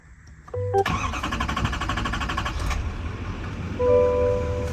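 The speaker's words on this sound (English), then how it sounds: "put our foot on the brake and start it up" A 2024 Silverado 2500HD with the L5P Duramax diesel starts up: a short cranking burst catches into a loud, steady idle nearby, with a faint electronic chime toward the end.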